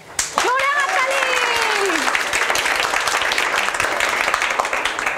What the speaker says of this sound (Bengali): সবাই মিলে হাততালি